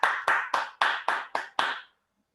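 Award-ceremony applause comes as a short burst of seven even, rhythmic claps, close and crisp, stopping abruptly into silence.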